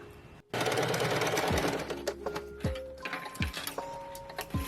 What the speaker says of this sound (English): So now I get to take this abomination to the sewing machine and sew down everything to create the perfect pattern.